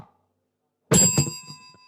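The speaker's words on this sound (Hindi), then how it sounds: "आपने घंटी को दबा दिया है, तो आप इसका आंसर बता सकती हैं।" A contestant presses a quiz buzzer bell during an educational show, one sharp ringing ding with a brief metallic rattle that fades out after silence.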